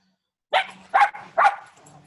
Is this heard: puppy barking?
yes